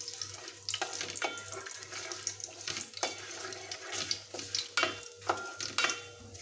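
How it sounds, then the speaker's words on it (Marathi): Water is poured into a pot where whole cardamom, cinnamon, cloves and black pepper fry in oil for Hyderabadi chicken dum biryani, giving a close, uneven splashing gush with hissing sizzle and intermittent bursts. "आणि आता याच्यामध्ये मी हे 1 तांब्याभर पाणी टाकणार आहे"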